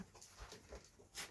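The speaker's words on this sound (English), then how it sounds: "My dog's just gone into the room." A dog whimpering indoors, soft whiny cries and faint breathy sounds in a quiet room, ending with a brief louder noise.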